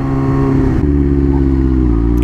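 A motorbike engine passes nearby, a steady mid-pitched drone that swells and then dips in pitch as it goes by, loud and close with no talk.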